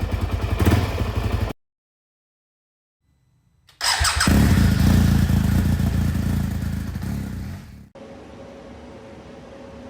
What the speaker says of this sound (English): It is in gear right now. And it's mostly adjusted properly, but blip the throttle a little bit and it wants to go.